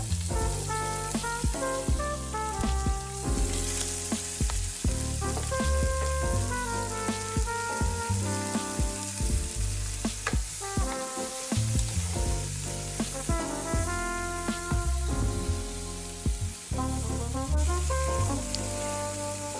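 Vegetables sauteing in a pan with pork drippings for pork chops cacciatore give off a steady sizzle and crackle, heard under prominent background music throughout.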